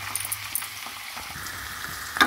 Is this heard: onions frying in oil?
yes